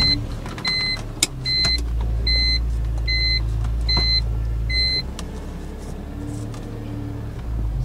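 A BMW E46 M3 pulls away on a drive, its low engine rumble steady from inside the cabin while a high electronic chime beeps in a short repeating series.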